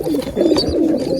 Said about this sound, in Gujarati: આમાં તો કબૂતર બેઠું છે